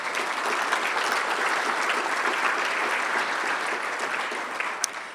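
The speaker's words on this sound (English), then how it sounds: "a round of applause for all of you" Sustained applause from a full conference audience at an economic summit, a dense, even wash of clapping lasting several seconds with no talk over it.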